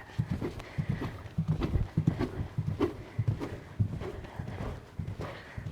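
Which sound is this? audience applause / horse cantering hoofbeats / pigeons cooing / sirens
horse cantering hoofbeats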